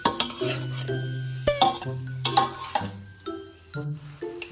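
Ingredients being stirred together in a dish make repeated metallic clinks and scrapes of a spoon against the bowl in an uneven rhythm, close and clear, with a tonal hum beneath.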